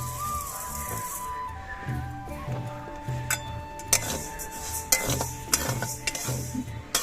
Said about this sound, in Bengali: এই সাবুগুলোকে আমি হালকা ভেজে নেব।